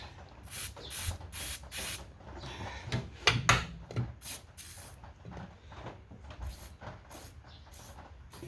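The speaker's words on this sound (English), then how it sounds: "So that's all we can do is put some WD-40 on things." WD-40 sprayed onto parts of a Briggs & Stratton Quantum lawn mower: a series of short, close hissing bursts in an uneven rhythm, with faint clunks and handling noise between sprays.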